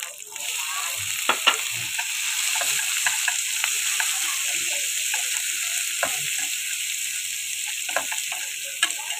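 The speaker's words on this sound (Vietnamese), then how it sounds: "Đó mình xào cho nó đều, cho nó héo héo xíu nha, cho nó chín chín xíu" Pineapple chunks and onion stir-fried in a hot pan for a braised pompano dish, with a steady close sizzle and intermittent clicks and scrapes from stirring, no talking.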